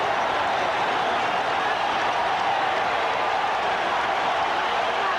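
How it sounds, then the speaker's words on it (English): A packed baseball stadium crowd at a 1978 World Series game between the Yankees and Dodgers roars in a steady, dense wall of cheering and clapping that stays loud and unbroken throughout. "Listen to the crowd."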